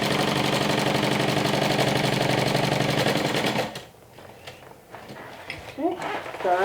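A sewing machine stitches through bag pockets with a fast, steady mechanical chatter that runs loud for several seconds, then stops, leaving quieter handling noises and brief faint sounds.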